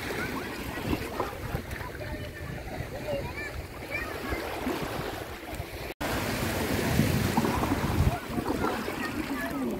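Sea waves wash steadily onto a shallow seaside beach in Italy, a continuous rushing surf with heavy wind buffeting the microphone and a brief dropout midway.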